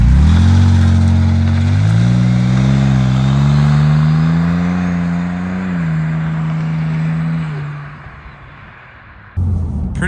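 A twin-turbo flat-six Porsche 911 Turbo of about 800 hp with Tiptronic, upgraded turbos and intercoolers, accelerating hard: a loud, close engine roar climbing in pitch through the gears, easing off near the end before a short burst.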